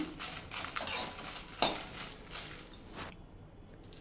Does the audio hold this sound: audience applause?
no